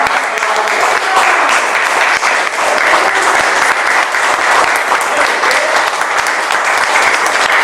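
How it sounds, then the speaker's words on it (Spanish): A loud, close round of applause fills the room at an event marking eighty years of the film La Guerra Gaucha, a thick continuous clapping that stays at full strength throughout, with faint voices mixed in. "un aplauso para Peluso también"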